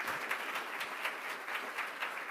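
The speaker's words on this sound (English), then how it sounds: "one last round of applause for everybody, including John and Isaac and all our partners" Steady applause from an audience at a breakfast book event, a dense, continuous wash of many hands clapping close by with no talking over it.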